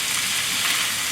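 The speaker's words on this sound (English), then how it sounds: "When you stir, dig down to the bottom of the pan so you will preserve the tofu." Tofu sizzling in a frying pan while being stirred, a brief, dense, steady hiss of frying heard close up with no speech.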